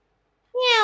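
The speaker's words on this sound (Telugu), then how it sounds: "గుండు పిల్లి వచ్చింది దా" A single cat meows close and loud in a bright, rising cry that starts halfway through after silence, with no one talking.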